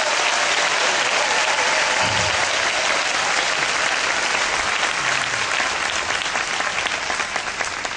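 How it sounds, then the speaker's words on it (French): A large audience at a religious teaching session applauds loudly and continuously, a dense wash of clapping that barely fades over eight seconds. "Il faut applaudir pour elle."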